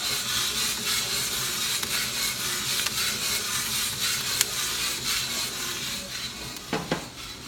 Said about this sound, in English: It let you see the roaster, how it's spinning. It lets you hear the cracks, hopefully.